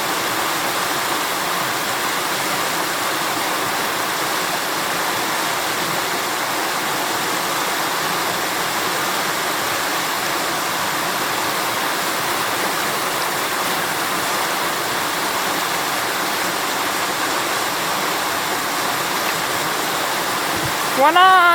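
The Russian River in Alaska flowing steadily, a continuous broadband rush of water close by with no breaks, heard alone until a brief change at the very end.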